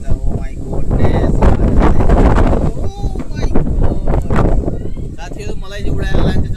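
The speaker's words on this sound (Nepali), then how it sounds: "क्या हावा आइरहेछ" Strong, dusty wind at Bardaghat, Nawalparasi, buffets the microphone in heavy, roaring gusts throughout, with a person talking over it.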